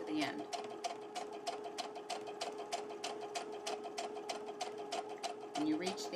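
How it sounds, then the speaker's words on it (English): A sewing machine runs forward along a straight-stitch seam, its needle tapping in a fast, steady rhythm close by, with a faint voice beneath. "we go back into forward and sew the rest of our seam"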